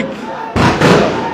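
Sound grenades going off at a night-time street protest at Dhaka University, two loud broadband blasts in quick succession that rise out of crowd noise and linger as a roaring wash.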